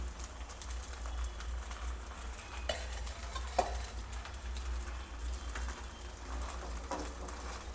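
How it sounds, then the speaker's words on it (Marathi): Sabudana varai thalipeeth fries in a pan after ghee is added, giving a steady close sizzle with a faint crackle and a couple of soft clicks from a utensil. "थोडंसं आपण तूप घालूया"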